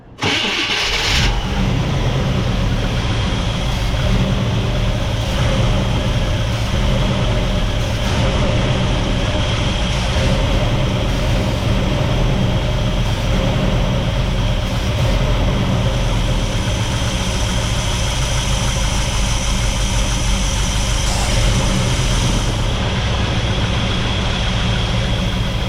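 A Chevrolet C10 truck with a newly fitted carburetor starts, revs and then settles into a loud, steady idle with a continuous low rumble, heard up close for the whole stretch.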